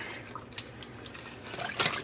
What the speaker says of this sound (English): I'm going to do another rinse.